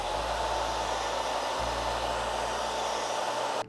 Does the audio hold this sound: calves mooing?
no